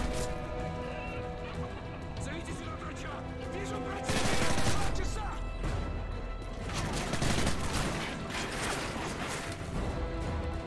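Dense, continuous gunfire rattles through a Call of Duty: Modern Warfare 3 firefight, with rapid bursts, clanking mechanisms and crashes layered over a constant in-game soundscape that swells after the first few seconds.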